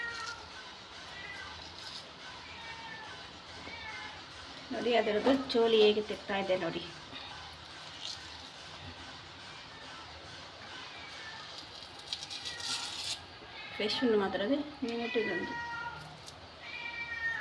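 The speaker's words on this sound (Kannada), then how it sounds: "ನಮ್ಮ ಬೆಕ್ಕು ಹೊರಗೆ ಕೂಗ್ತಾ ಇದ್ದಾನೆ." A pet cat meows outdoors in two bursts of wavering, plaintive cries, fairly close, with a person talking at moderate level between and around them.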